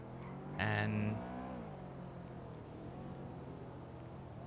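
Car engine noise in GTA V NoPixel city traffic: a loud, close vehicle revs and whirs with a rising-then-falling pitch before settling into a steady drone under continuous road rumble, while a voice briefly speaks.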